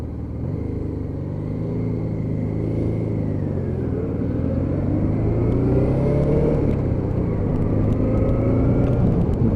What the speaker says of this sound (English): Nice purr from that engine underneath me.